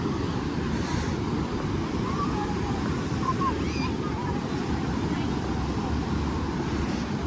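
Sea waves at Ganpatipule beach make a steady, broad roar of surf that fills the scene, with wind noise and faint distant voices mixed in.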